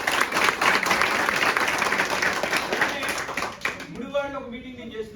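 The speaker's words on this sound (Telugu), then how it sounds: "గట్టి క్లాప్స్ ఇద్దాం." An audience at a Vestige sales meeting bursts into loud, dense clapping for several seconds, which then tapers off as a voice begins speaking over the last scattered claps.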